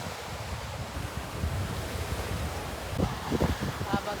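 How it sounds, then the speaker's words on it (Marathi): Sea waves washing onto a beach on a hot, breezy day, a continuous faint surf wash under wind buffeting the microphone, with a few low thumps toward the end. "आपण पाहू शकता मस्तपैकी लाटा येत आहेत."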